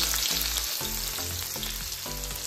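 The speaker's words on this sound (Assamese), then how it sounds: "মাছ ভজা তেলতে পিঁয়াজ দি দিছোঁ" Steady, loud sizzling of onions frying in hot oil left from frying fish, with intermittent low clanks and stirring noises throughout.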